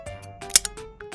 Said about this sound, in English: Cut out the picture with scissors and set it aside.